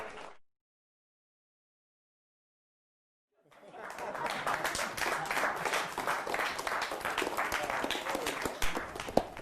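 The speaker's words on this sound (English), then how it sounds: "Big round of applause for that." Audience applause at a live show, rising suddenly after a brief silence and holding as a dense, steady wash of clapping from a sizable crowd through to the end.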